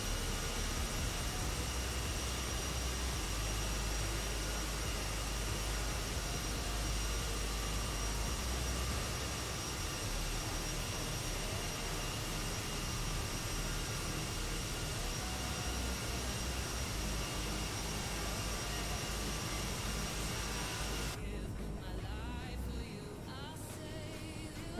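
Jet airliner engines roar steadily during a steep climb out of San Francisco in Microsoft Flight Simulator 2020. The broad, constant whine and rush stays loud and unbroken throughout, with a slight thinning near the end.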